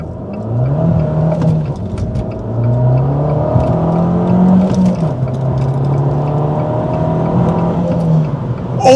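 A turbocharged car on an open road accelerates hard, its engine note rising through the gears with a whirring turbo spool over a deep rumble, loud and close throughout.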